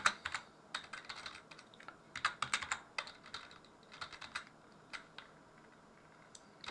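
Quiet, irregular clicking of fingers typing on a computer keyboard while coding JavaScript, with bursts of keystrokes separated by short pauses.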